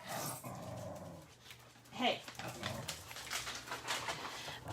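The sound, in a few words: dog barking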